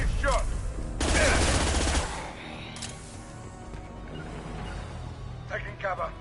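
Heavy bursts of gunfire in the Mass Effect 2 Legendary Edition, a loud volley near the start followed by scattered shots and crashes under ongoing speech.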